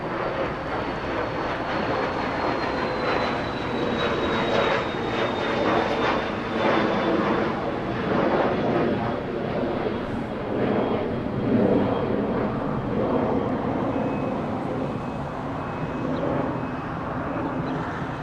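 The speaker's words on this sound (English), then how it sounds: "Embraer Phenom 300 flying to Monterey in California." Embraer Phenom 300 business jet climbing out after takeoff from a large airport, a loud steady engine roar with a thin whine sliding slowly downward, sustained and fairly close throughout.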